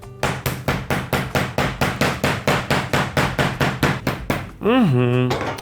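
Chicken breast, laid under cling film on a cloth, is pounded with a wooden mallet in a steady run of about twenty sharp, evenly spaced thuds, close and loud, ending as a voice starts speaking.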